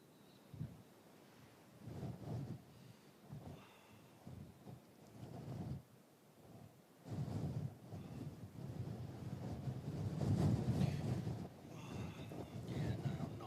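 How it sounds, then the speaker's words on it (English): Strong gusts of wind roar and buffet the microphone at an airport during a severe wind warning. The gusts rise and fall unevenly and build to a heavy rumble near the end. "Whee, wind already."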